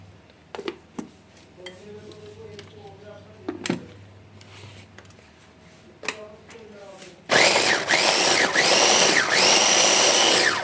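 An electric chopper whirs loudly and steadily in a kitchen, chopping broccoli for paratha filling; the motor starts abruptly after several seconds of quieter clinks and handling sounds.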